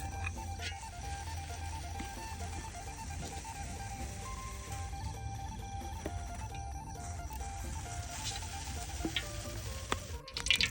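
Curry paste sizzling in a hot pan while eel is stir-fried, a steady close crackle and hiss with faint utensil scrapes and a few clatters near the end, no talking.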